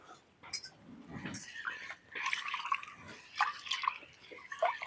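Soaked green gram (moong dal) being washed by hand in water in an outdoor village kitchen, faint irregular splashes, drips and swishes at close range with no talk.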